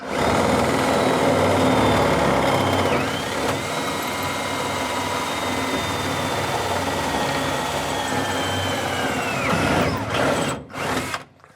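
A high-pitched drill with a long bit whines steadily for several seconds while boring through a 1943 Willys MB jeep tub, its pitch dipping as it bites, before winding down and stopping.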